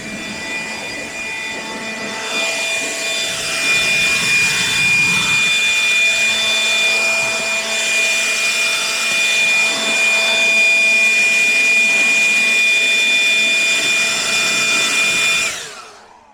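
Blower fan in a 1999 Dodge Ram 1500 pushing air hard, a loud steady whooshing hum with a high tonal whine, running continuously before cutting off at the end.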